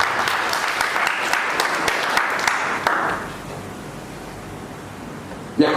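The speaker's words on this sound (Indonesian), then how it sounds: "Berikan tepuk tangan untuk" An audience at a church youth service breaks into loud applause for about three seconds, then the clapping drops away to a quieter room tone, with a brief sharp sound at the very end.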